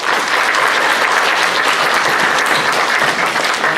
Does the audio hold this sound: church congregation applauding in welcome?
yes